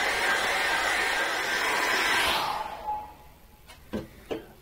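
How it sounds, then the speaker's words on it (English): A hairdryer drying acrylic paint blows a steady, loud whooshing roar for about two seconds, then cuts off, leaving quiet room tone and a few soft knocks. "dry that off with a hairdryer"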